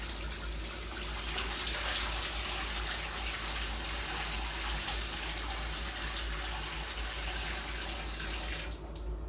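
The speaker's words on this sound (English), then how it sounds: "I got the first bucket of water in there and I've got a plate. Just want to dump it over your plate." A bucket of water pours onto a plate set inside a 55-gallon aquarium, producing a steady, even gushing splash that lasts about nine seconds before cutting off near the end.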